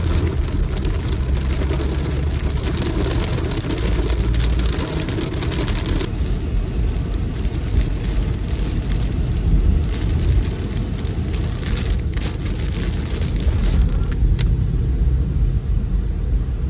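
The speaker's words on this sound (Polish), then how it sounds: "Taki grad leci, no." Hail and heavy rain during a thunderstorm drum steadily on a car from inside, a loud, dense patter that continues unbroken with a few sharper hits.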